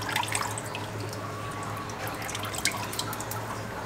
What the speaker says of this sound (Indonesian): Dikepal sampai airnya benar-benar turun.